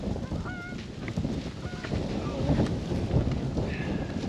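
Geese honking in a flock over a windy South Dakota cornfield during a hunt, with several short honks scattered across the clip beneath heavy, steady wind rumble on the microphone.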